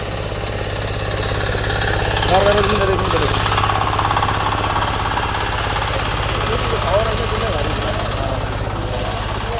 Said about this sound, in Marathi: हे ट्रॅक्टर तर लईच वॉन्टेड दिसतंय हो